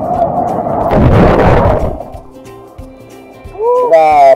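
Large ocean waves crash at Bagasbas Beach in a loud, broad surge of rushing water that fades into quieter wash. Voices and excited shouts come through near the end.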